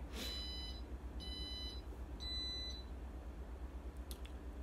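Three short electronic beeps from a timer display counting down, evenly spaced about a second apart, ring out clearly over a steady low hum, then the room goes quiet.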